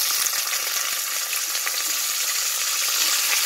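Onions frying in hot oil with whole spices, bay leaf and dried red chilli, giving a steady bright sizzle and crackle that is close and continuous, with no talking.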